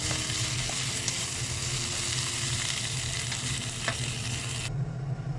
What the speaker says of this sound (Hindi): ये दालचीनी है और लौंग है और काली मिर्ची है, ये हम ऐड कर देते हैं। इसको अभी थोड़ी देर हम भूनेंगे।